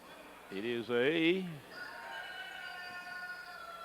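Rooster crowing once in a long, strained call during a timeout at a Kentucky high school boys basketball tournament game between Pike Central and Pikeville, rising over crowd noise, then a steady electronic tone lingers under the arena murmur.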